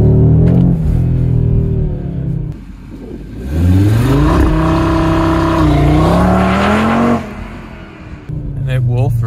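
A 2022 Audi RS3 launches with launch control, its engine loud and close, roaring and climbing in pitch, easing briefly, then surging again through a long sustained rev before dropping off.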